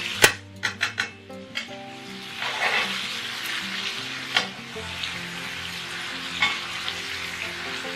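Caprese pasta with basil leaves sizzling as it warms through in a pan, a steady frying hiss under a few sharp utensil clinks and pan knocks at the start.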